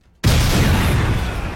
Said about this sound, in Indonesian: tiba-tiba kapal mereka pun meledak